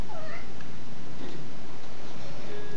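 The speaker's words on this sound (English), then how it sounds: "my cat just like yelled at me" A house cat lets out a loud, drawn-out meow close by, sounding almost like a yell, over steady background noise from a game being played.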